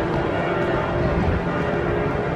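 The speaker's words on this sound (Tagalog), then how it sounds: "Bakit siya nagbe-bell? 1937 pa naman. Siguro may simba." Dome Cathedral bell ringing out on a city street, a dense sustained clang heard from a distance and blended with steady outdoor noise, with no talking.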